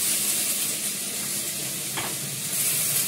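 Tomato and salt sizzling in a hot frying pan, a loud steady close hiss of frying with a brief stirring scrape partway through, no voices.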